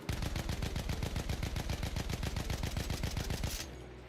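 Rapid automatic gunfire in Battlefield 1 multiplayer, fired without controlling the recoil: a loud, evenly spaced stream of about twenty shots over three and a half seconds that then cuts off.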